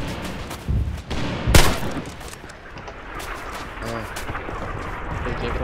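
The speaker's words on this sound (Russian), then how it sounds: "Блин, там стреляют." Gunfire rings out nearby in a few sharp cracks, with the heaviest burst early on, over a steady background rumble while voices talk.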